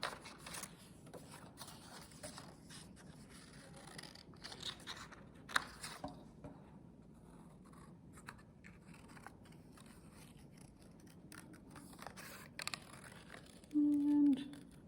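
Intermittent snipping and crisp paper scraping as scissors cut through paper, close and fairly quiet, with soft rustling between cuts.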